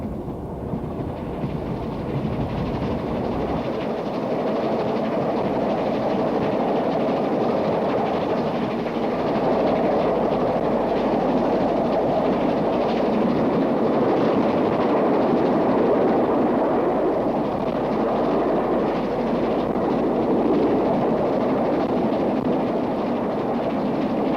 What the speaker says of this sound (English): The train ran via Filton on the Badmington route through Swindon and Reading to London.